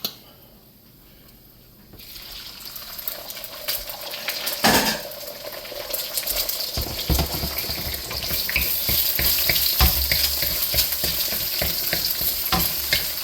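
Egg cracked into a hot pan for beef fried rice, frying with a steady crackling sizzle that grows louder, a sharp clunk early on and scraping stirring sounds throughout.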